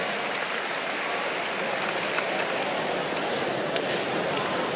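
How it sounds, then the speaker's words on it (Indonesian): An audience at a university orientation lecture applauds: a sustained, even patter of many hands clapping, filling the hall at moderate volume without pause. "Tepuk tangan dulu."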